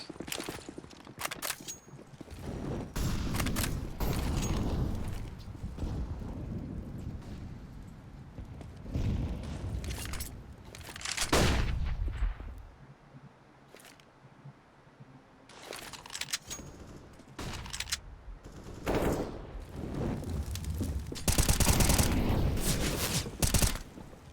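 Gunfire in a Counter-Strike match on Vertigo, an ESEA grand final: loud, repeated rifle bursts and volleys come in clusters throughout, with short lulls between them.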